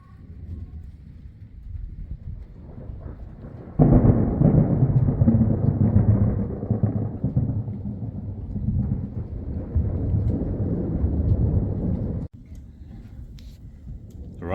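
Deep, sustained rolling thunder from an approaching storm during October hay cutting, a long low rumble that swells abruptly and then cuts off sharply, heard outdoors without speech.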